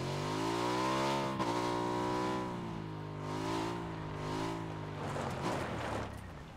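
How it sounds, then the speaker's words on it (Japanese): A motorbike engine in the video game PUBG revs and drops in pitch, whining up and down over several seconds before fading out, with no talk. "ちょっとバイクみたいな音一緒に聞こえた な"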